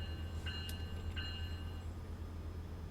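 A train pulls into a station on the Antelope Valley Line in Train Sim World 4, with a steady low rumble of rolling wheels and a few brief high tonal chimes or squeals near the start.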